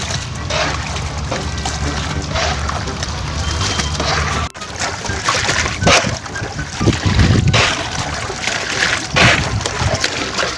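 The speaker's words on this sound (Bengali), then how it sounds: "পানিটা গাইস নৌকা ভিতরে ঢুকতেছেই ওই যে ফুটাটা দিয়া তোমরা দেখতেছ" Water seeping through a hole into a small boat, a steady wash of splashing and sloshing with close handling noises, loud and continuous throughout.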